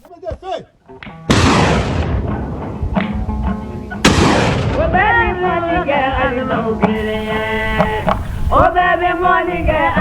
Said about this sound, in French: des frappes d'artillerie n'ont laissé aucune chance à la plupart d'entre eux